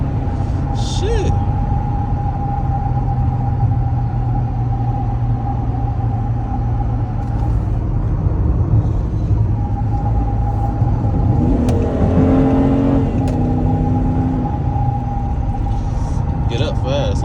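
An ex-police Dodge Charger runs from the cabin, its engine giving a steady low rumble that rises into revving and gear changes midway, with a person speaking over the engine noise.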